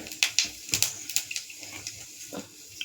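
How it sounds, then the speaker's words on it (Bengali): Fennel seeds crackle in hot oil for tempering, with a string of sharp pops and spits close by that thin out over a few seconds, over a soft background hiss. "মৌরি ফোড়নটা দিয়ে দিচ্ছি।"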